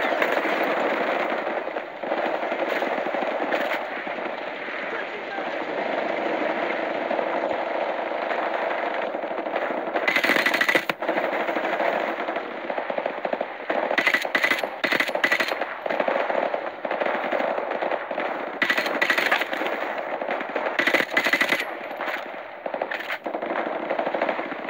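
Automatic machine gun fire in the video game Call of Duty Modern Warfare Remastered, with long sustained bursts and sharper overlapping shots during a loud, dense firefight. The shooting is continuous and close throughout.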